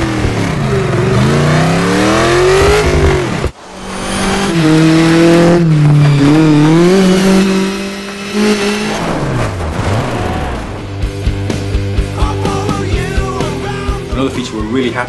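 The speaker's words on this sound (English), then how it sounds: "we really want to improve those car sounds" A rally car engine in the video game Colin McRae Dirt 2 roars and revs loudly, pitch sweeping up and down through gear changes, with tire squeal and sustained high-rpm whine.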